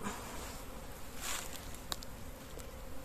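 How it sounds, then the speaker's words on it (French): An Asian hornet buzzes close by in a steady drone near a beehive, swelling briefly and holding on alone without speech. "je vois un frelon asiatique"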